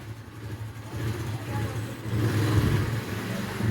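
A motorcycle engine runs at a low, steady idle while the bike is brought inside a house, the hum swelling slightly louder partway through, close by and without talk.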